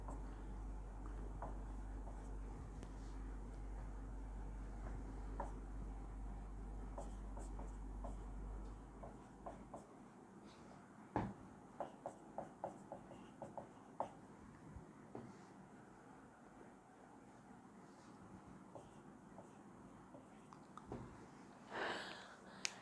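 A teacher writes out physics equations for a torque problem. Scattered faint scratchy strokes and taps fall at an uneven pace over a steady low room hum, close and quiet, with no talking.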